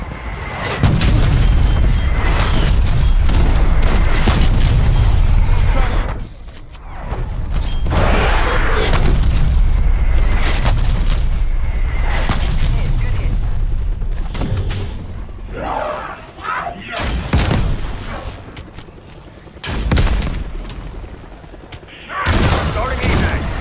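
An artillery strike in the video game Call of Duty Black Ops Cold War produces loud, rumbling booms and dense barrages of explosions, some overlapping, under voices talking.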